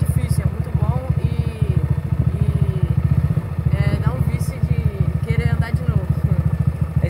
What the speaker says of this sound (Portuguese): Johnny, dá mais uma volta aí, manobra aí a moto aí, vai.